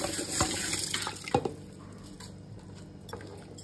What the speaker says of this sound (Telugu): చిట్టిముత్తెల రైస్ కడిగి వేసేస్తాను.